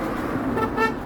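A car horn honks in a short, steady toot at a roadside prank sign, sounding close and fairly loud over the low rumble of passing road traffic.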